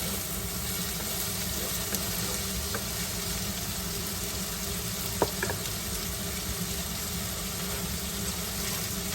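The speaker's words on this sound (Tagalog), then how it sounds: "ihalo na po natin sa sibuyas yung ating shrimp" Shrimp stir-fried with onion for special fried rice, giving a steady close hiss of sizzling that stays even throughout, with a faint clink or two and no talking.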